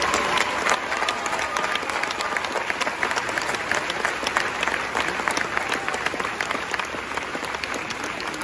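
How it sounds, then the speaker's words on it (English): Crowd at an Air Force basic training graduation ceremony in San Antonio applauding: sustained, dense clapping at steady loudness for the whole stretch, with a few cheers mixed in. "how about another round of applause for this exceptional airman?"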